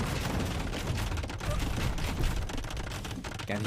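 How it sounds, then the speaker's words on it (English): Bombard cannons in an Age of Empires–style strategy match, a steady barrage of booming shots and battle noise, loud and continuous throughout, with faint commentary voice underneath. "He's got the bombard cannons."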